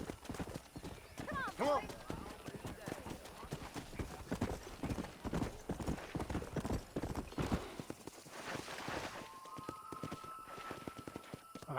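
Horse hooves gallop in the video game Red Dead Redemption, a rapid, steady clip-clop with a brief whinny, running under a voice.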